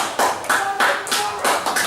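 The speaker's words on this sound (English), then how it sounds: "could you just on 1, 2, 3 try a round of applause just yourself" One person clapping hard and fast at a comedy club, about eight sharp claps in a steady burst, close and loud.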